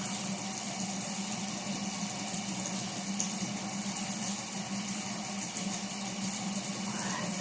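Water runs steadily from a tap while a face is washed, a close, even rushing hiss that never lets up, with no talking.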